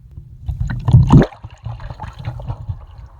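Water splashing and gurgling inside a water tank, recorded by an iPhone in an AquaTech AxisGo underwater housing, with a close burst of sloshing midway and softer churning around it.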